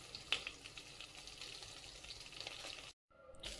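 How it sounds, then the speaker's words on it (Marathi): Stuffed green chillies fry in a covered pan over low gas, giving a soft, steady sizzle with faint crackles that cuts out briefly near the end before resuming. "साधारण दीड मिनटाकरता एकदम लो गॅसवर आपल्याला ह्या फ्राय होऊ द्यायचे"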